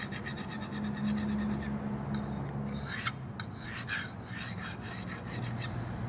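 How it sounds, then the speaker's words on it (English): A Ka-Bar Becker BK7 knife edge being sharpened with a sharpening tool, producing repeated close rasping strokes in an even rhythm, loud and continuous. "We're just refining the edge, giving it back its razor sharpness."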